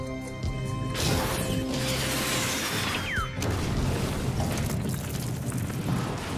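A big cartoon fluid explosion on a planet erupts with a roaring crash and rumbling debris, then a whooshing streak and a second wave of noisy rumble, loud throughout.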